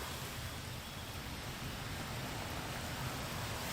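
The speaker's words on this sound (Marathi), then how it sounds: "मुंबईमध्ये मागील 2 ते 3 दिवसांपासून पावसाचा जोर वाढलेला आहे" Heavy monsoon rain pours over Mumbai as a steady, dense hiss with no distinct drops or other events.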